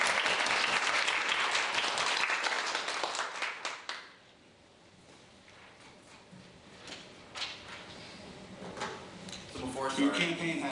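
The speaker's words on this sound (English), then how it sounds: "Please give a round of applause for him." Audience applause at a debate fills the opening seconds, dense clapping from a large room that cuts off sharply, followed by quieter room noise and scattered sounds.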